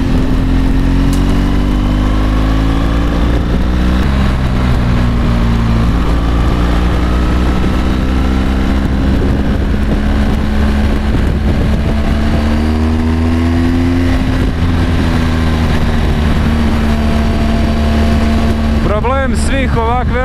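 BMW GS 1200 Adventure motorcycle riding with the dB killers removed from its exhaust, a loud, continuous engine drone that rises and falls with the throttle, under steady wind buffeting, with someone talking over it.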